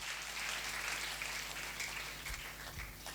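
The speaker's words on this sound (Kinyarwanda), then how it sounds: "Komera Yesu amashyi" A church congregation claps for Jesus during a sermon, a soft, steady wash of applause that fades slightly toward the end, with no speech over it.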